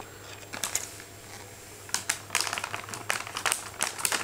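Wrapping paper on a birthday present crinkles and tears in short bursts, close by, with a steady low hum underneath during a quiet birthday morning at home.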